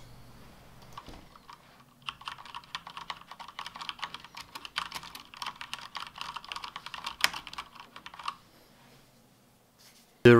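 Rapid, aggressive typing on an ASUS ROG GK2000 Horus RGB mechanical gaming keyboard: dense bursts of sharp key clicks for several seconds, close and clear, then a pause before a final clack.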